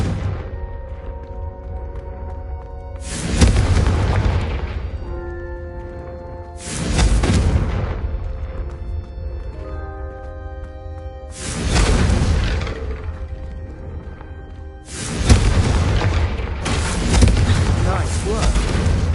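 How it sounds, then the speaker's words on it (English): Confringo spells cast in the video game Hogwarts Legacy, each a loud whooshing burst of fire and explosion, four or five blasts spaced a few seconds apart over a sustained musical background. "a Confringo cast travels a bit farther than that of a spell like Incendio"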